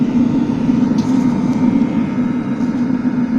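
A ShaaZ heater runs steadily close by, a loud continuous drone with a strong low hum and constant rushing noise.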